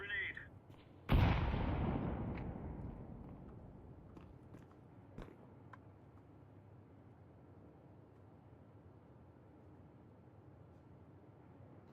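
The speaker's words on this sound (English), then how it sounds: "Throwing a grenade" A grenade thrown in Counter-Strike 2 detonates with a sudden loud boom after a brief sound, then a long decaying rumble with a few faint later clicks and pops, no talk over it.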